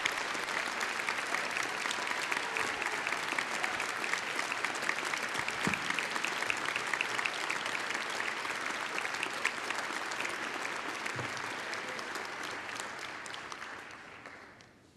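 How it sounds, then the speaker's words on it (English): Sustained applause from an audience at a university spring convocation, steady and dense for most of the clip before fading out toward the end. "You can clap now."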